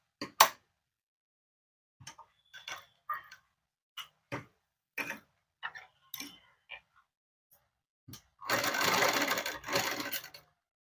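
A sewing machine stitches cut work on a blouse. Scattered light clicks and taps lead to a steady, close, whirring two-second run of stitching near the end.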